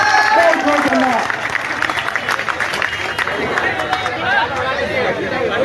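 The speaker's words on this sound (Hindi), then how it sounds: "उनके लिए जोरदार तालियों के साथ स्वागत करिए।" Crowd at a protest rally of contract survey workers and engineers in Bihar, with loud chatter mixed with rhythmic applause, dense and close throughout.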